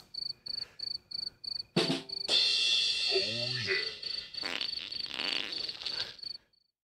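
A cricket chirps in a fast, regular pulsing trill, fairly close and alone at first, then continuing beneath a burst of broadband noise and a brief voice-like sound before stopping.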